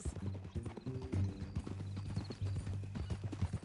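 A horse's hooves clip-clop on a ranch in a steady, close rhythm of muffled knocks, with a low musical score running underneath.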